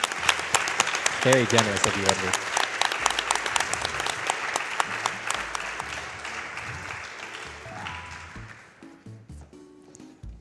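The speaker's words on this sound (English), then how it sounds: "I'll give that another clap." Audience applause at a charity speedrunning marathon event for a donation, a burst of clapping that swells then gradually thins out and fades, with a voice speaking over it.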